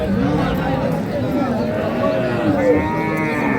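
Cattle lowing at a rural livestock market (haat) selling Sahiwal, Sindhi and local dairy cows and calves, several moos rising and falling amid steady crowd chatter and voices.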